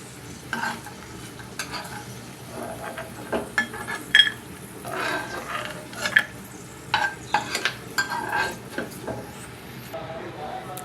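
Dry fruits fry in ghee in a pan and are stirred with a spoon, giving a steady soft sizzle broken by repeated scraping and clinking strokes against the metal.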